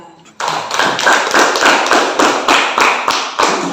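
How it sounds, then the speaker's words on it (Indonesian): Classroom audience applauding a performance by a group of student teachers, a steady burst of many hands clapping close by that starts abruptly and holds for several seconds. "Kita kasih aplaus ya"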